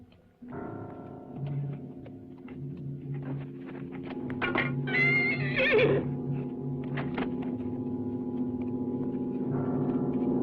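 A horse whinnies loudly and shrilly in the middle, set against a steady low rumble of an outdoor battle-camp scene with faint hoof clops and rattling around it.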